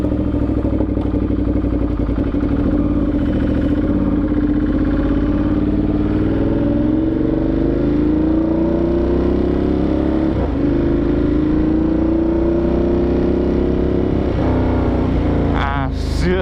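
Ducati Monster 1200S motorcycle with an aftermarket Avionic exhaust, engine running loud and close with rising and falling revs throughout, a few brief clicks near the end.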